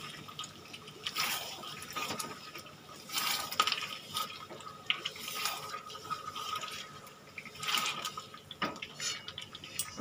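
Salted, marinated curry is stirred in a pan, giving soft wet scraping and sloshing with occasional metallic scrapes of the spoon against the pan, steady and close, with no talking.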